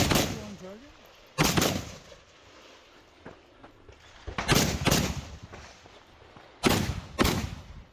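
Rifle and pistol fire at a multigun match stage, loud close shots in clusters of two or three with quiet gaps between them, echoing across an outdoor range.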